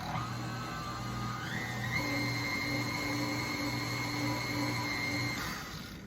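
An electric hand mixer runs steadily while slowly beating powdered sugar into a cake frosting, its motor whine stepping up in pitch partway through and holding, close and continuous with no talking.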